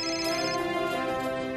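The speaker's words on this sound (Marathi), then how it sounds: "कोणाचा तरी फोन वाजतोय." A mobile phone ringtone playing at home, a steady melodic tone with sustained notes, moderately faint and heard alone without talk.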